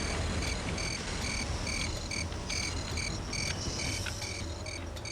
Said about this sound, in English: Oh, there's overly loud bloody crickets again.